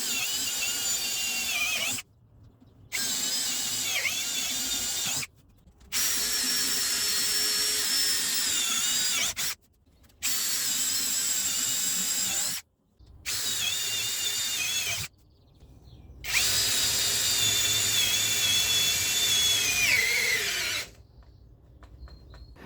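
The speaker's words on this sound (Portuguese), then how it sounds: "A máquina desligou no 45º furo, drenou por completo a bateria" Cordless 16 V ECOSEN drill boring a series of holes into thick, fibrous wood, loud whining bursts of several seconds each, separated by short silent pauses, with pitch dropping as the bit bogs down.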